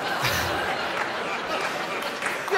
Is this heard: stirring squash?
no